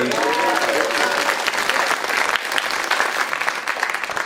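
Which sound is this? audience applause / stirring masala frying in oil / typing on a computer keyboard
audience applause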